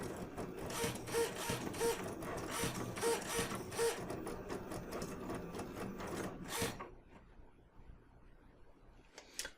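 A Cricut Maker cutting machine slices applique fabric with a rotary blade, a close, busy mechanical whirring and rhythmic stepping that runs steadily then stops, leaving near silence.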